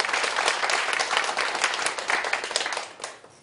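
A church congregation at a Sunday worship service breaks into warm, dense applause, many hands clapping together for about three seconds before tapering off at the end.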